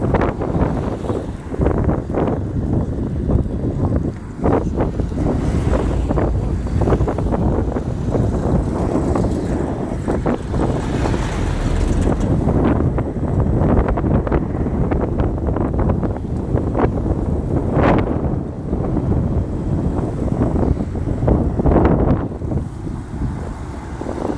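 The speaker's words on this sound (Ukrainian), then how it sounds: "вітер дуже сильний" Strong, steady wind roars across the microphone for the whole stretch, buffeting loudly with gusty surges and a low rumble underneath.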